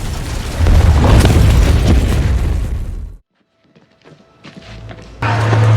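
An orphanage house blows up in an action film: a loud, deep explosion rumbles for about three seconds and cuts to near silence, with scattered debris sounds before a second heavy rumble returns.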